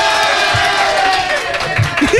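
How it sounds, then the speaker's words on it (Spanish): A studio audience at a Spanish-language TV show cheers and whoops in a dense, loud crowd roar, with scattered claps, filling the short stretch. "Un aplauso, por favor"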